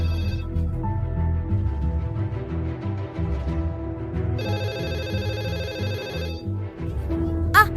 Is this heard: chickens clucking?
no